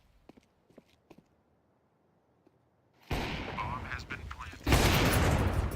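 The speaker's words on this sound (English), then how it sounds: "Flashbang accompanying." Flashbang grenade bursts and gunfire in a competitive tactical shooter match, arriving suddenly after a quiet stretch with a few faint ticks, then a loud sustained crack and a second harsh blast near the end.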